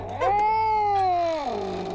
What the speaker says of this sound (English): Were you gonna try to pet that cat that just got caught in a bear trap and was obviously traumatized?